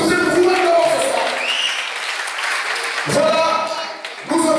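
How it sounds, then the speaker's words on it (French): Audience at a comedy concert in Gabon applauding, a dense wash of clapping that swells and fades, heard under someone speaking loudly to the crowd. "Applaudissez pour vous-même d'abord ce soir."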